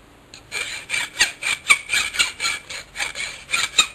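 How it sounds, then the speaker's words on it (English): Hand file rasping across an aluminum part to deburr its edges, about a dozen rhythmic strokes, close and steady with no talk. "we take that up, kiss that with a file a little bit, just to make sure we got all the grumbles off of there"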